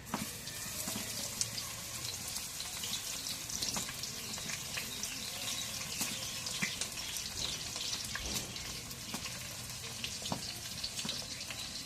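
Chopped onion frying in mustard oil: continuous loud sizzling and crackling with scattered pops and light clatter, steady throughout with no voices.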